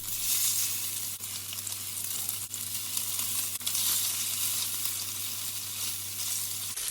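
Fish sizzling steadily in hot olive oil in a pan on medium heat, a loud, even crackle holding for several seconds over a low hum, with no voices.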